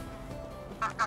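Geese in the medieval village-life game Medieval Dynasty let out two short honks near the end of a quiet moment, over a soft ambient background.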